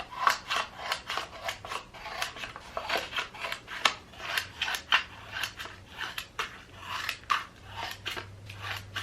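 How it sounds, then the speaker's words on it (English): Scissors cutting slits in wrapping paper around a round tin, a steady run of short crisp snips and rustles at an even rhythm, close and quiet, with no talking. "I'm just gonna cut slits basically all the way down to the tin, all the way around."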